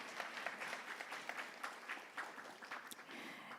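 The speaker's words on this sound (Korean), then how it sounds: "감사의 박수 부탁드리겠습니다" A faint, distant crowd applauds steadily at the opening ceremony of a Korean smartphone film festival, the clapping a dense, even patter with no voices.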